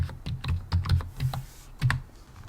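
Password typed on a computer keyboard while installing Fedora Linux in VirtualBox: a close, irregular run of about a dozen crisp key clacks with short pauses, no talking.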